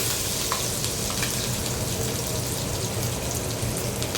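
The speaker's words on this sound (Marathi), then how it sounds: "हिरवी मिरची तळून घ्यायची चांगली तेलामध्ये" Green chillies fry in hot oil with cumin seeds in a home kitchen, giving a steady, dense, rain-like sizzle and crackle that holds evenly throughout.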